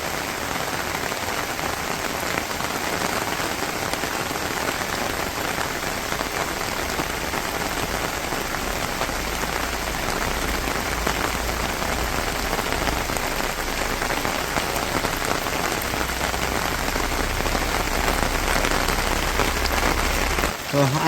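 Heavy rain falls on a rural setting with water lilies, giving a dense, steady patter of drops on surfaces that continues unbroken and fairly loud for about twenty seconds.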